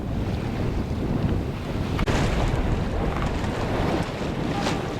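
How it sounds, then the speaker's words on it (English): Strong wind buffets the microphone aboard the small yacht Mingming II at sea, a loud continuous roar with waves washing around the hull throughout. "Don't know how long this wind's going to last"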